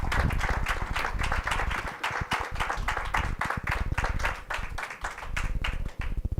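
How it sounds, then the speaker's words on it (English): A studio audience applauds at length for Rus DeBonis, dense rapid clapping from many hands holding steady and loud throughout before thinning slightly at the end. "That's like the longest applause break anybody's ever got on this show."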